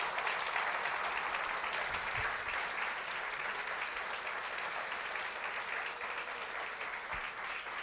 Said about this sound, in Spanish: Dale un aplauso al Señor, amado